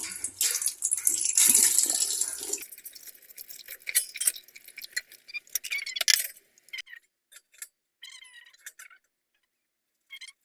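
Peeled produce dropped into a basin of water, a run of splashing and sloshing at first, then scattered small clinks and drips that thin out toward the end.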